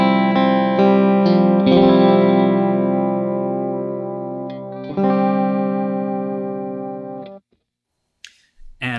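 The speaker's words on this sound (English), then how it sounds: "actually introducing tape style delay on it" Electric guitar run through a pedal with tape-style delay, sustained chords ringing with chorus-like shimmer and echoing repeats, loud and close, cutting off abruptly near the end before a brief pluck.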